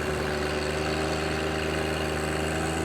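A John Deere 1025R subcompact tractor drives a 5-foot tiller through a field, its engine droning steadily at a constant pitch with a continuous mechanical hum and no pauses.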